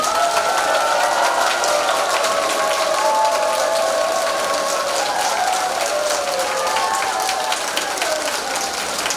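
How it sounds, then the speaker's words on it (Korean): A large crowd at a political lecture in Korea applauds loudly and steadily, dense clapping sustained throughout with faint voices mixed in. "여러분 동의하시면 큰 박수 주세요."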